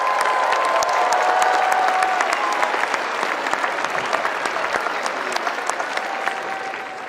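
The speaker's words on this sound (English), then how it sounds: "Please join me in a round of applause for these dedicated Carolina employees." Large crowd at the University of North Carolina's 2022 spring commencement in Chapel Hill applauding steadily for about seven seconds, dense and sustained clapping that tapers slightly toward the end.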